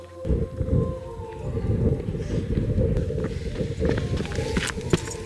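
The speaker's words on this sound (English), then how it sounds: "It's really windy now." Strong wind roars and buffets the microphone in steady low rumbling gusts, with faint scuffing movement underneath; no talking.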